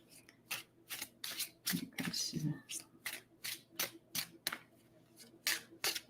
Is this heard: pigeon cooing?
no